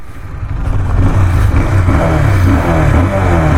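Two motorcycles, a Bajaj Pulsar 220F and a Husqvarna Vitpilen 250, both BS6, accelerate hard together on a road in a drag race, with a loud, continuous, rising engine roar.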